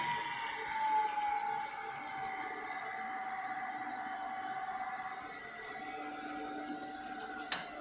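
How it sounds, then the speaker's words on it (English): A milling machine runs at 800 RPM with a steady, sustained mechanical whine and hum, with a high tone drifting slightly and a single sharp click near the end. "Power on the machine. Adjust your speed down to 800 RPM using the edge finder."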